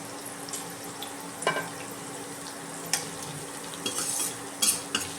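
Onion, garlic and ginger frying lightly together in a pan, a soft continuous sizzle with occasional clinks and scrapes of a spoon stirring against the pan.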